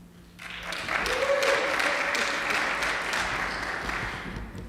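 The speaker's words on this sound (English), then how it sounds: "I like that applause before I even do anything." A church congregation applauds at a live Sunday service, a dense, even wash of clapping that swells in after a brief quiet start and holds steady, moderately distant in a large room.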